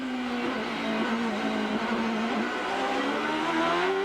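Onboard engine scream of Bobby Rahal's CART race car at Long Beach, heard from a nose-mounted camera: a loud, sustained high-revving whine that rises and dips slightly through gear and throttle changes, close and continuous.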